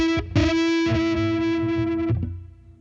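A distorted electric guitar sustains an E while a second string bends up to meet it in unison, the two pitches settling together before fading out.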